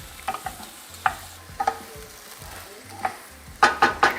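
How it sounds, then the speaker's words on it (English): Onions and tomatoes frying in a pan: a soft, steady sizzle with irregular spoon scrapes and taps, ending in a louder cluster of clattering stirs. "we want to cook these until the onions are translucent and the tomatoes are blistered"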